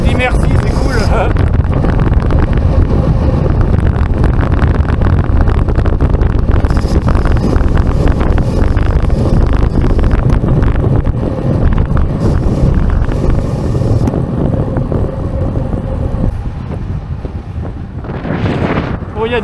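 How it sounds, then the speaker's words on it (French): Strong wind buffets the microphone on a long walk outdoors, a loud continuous roar with gusts that swell and ease across the whole stretch, with no other sound standing out. "Bon, il y a du vent hein, quand même."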